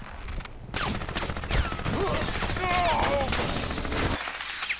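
Alien weapons in the video game Crysis fire dense, rapid bursts of automatic gunfire, loud and continuous for several seconds with zapping sci-fi tones mixed in.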